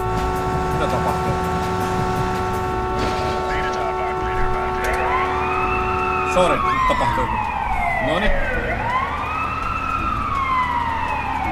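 An ambulance siren wails in the city-building game SimCity 4, rising and falling in overlapping sweeps over steady game music and engine drone, while someone talks casually over the top.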